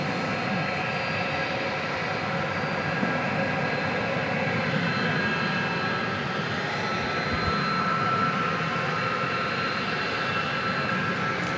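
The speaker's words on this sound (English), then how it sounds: "We're about to see American Airlines, American Eagle Flight 4020 coming in from Destin, Fort Walton Beach, Florida." An American Eagle Embraer 175 regional jet, a 23-year-old aircraft from 2001, landing at DFW Airport after dark, a steady loud engine roar and whine that holds continuously throughout.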